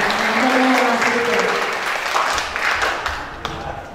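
An audience applauds a speaker at a cultural venue, dense clapping that swells early and then gradually thins and fades, with some voices underneath.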